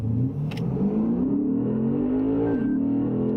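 A Lexus RC F accelerates hard, its engine note rising steadily in pitch, loud and close, with a brief dip near the end as if shifting gear.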